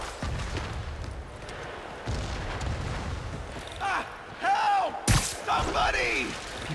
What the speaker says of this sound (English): Trapped by the last explosion.